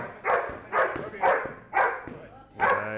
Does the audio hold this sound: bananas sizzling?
no